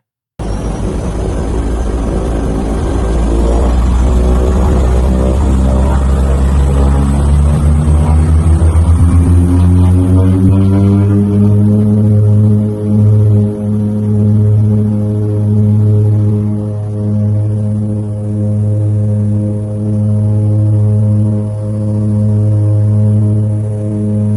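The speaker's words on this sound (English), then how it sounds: "Hear the amazing sound of the Twin Otter's propeller engines" Loud droning propeller engines of a Twin Otter seaplane at takeoff, a deep steady hum rising in pitch as they spool up and hold a powerful, continuous roar.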